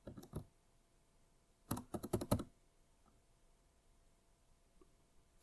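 Typing on a computer keyboard: one short burst of keystrokes, a pause, then a quicker cluster of clicks, with a last lone tap at the end, close and fairly quiet in a still room.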